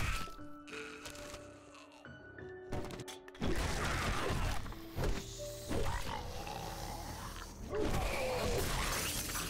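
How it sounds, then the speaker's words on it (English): Glass shatters loudly inside the survival game 7 Days To Die, a sharp crash followed by scattered tinkling debris, with clanking and other game noises around it. "That glass was loud, holy crap."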